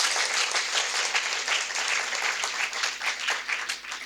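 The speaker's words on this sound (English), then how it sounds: "if you could give them a special round of applause" An audience at a morning presentation in Melbourne applauds to welcome students, steady dense clapping throughout that begins to thin toward the end.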